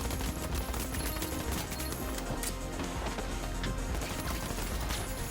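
Assault rifle firing in the shooter game The Finals, a dense, continuous rapid-fire burst that stays loud throughout with no pauses or talk.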